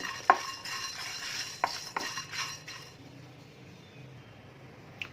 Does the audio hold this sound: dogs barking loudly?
no